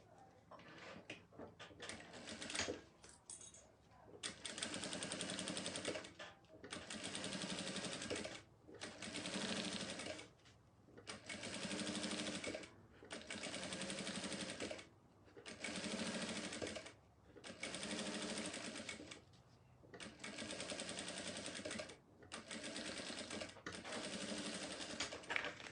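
A sewing machine stitches the lining of a round sublimated vanity-case bag, running in steady bursts of about two seconds each, separated by short pauses, close and loud with no talking.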